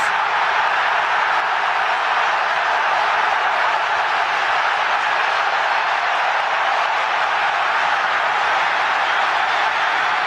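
A huge, dense roar of the football crowd at Old Trafford after a goal in Manchester United vs Arsenal, loud and unbroken for several seconds, a wall of cheering with no individual voices standing out.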